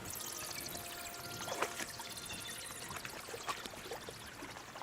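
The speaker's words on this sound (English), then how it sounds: "Usually there's only a small trickle running through here. The water must have risen." Water runs through a stream in Kingdom Come Deliverance 2, a steady broadband pouring and trickling wash with small splashy accents, fairly close and continuous throughout with no voices.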